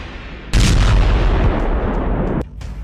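A heavy bombing blast from a US strike on Yemen erupts suddenly as a loud, rumbling boom that sustains for about two seconds before cutting off, followed by a quieter trailing rumble.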